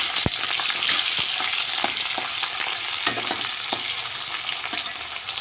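Chopped onion and crushed garlic sizzle loudly in hot oil, a dense, bright hiss with occasional spoon scrapes and taps as they are stirred, close by with no voices.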